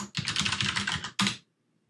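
Rapid typing on a computer keyboard, a dense run of close keystrokes followed by a short separate burst, then silence, with no talking.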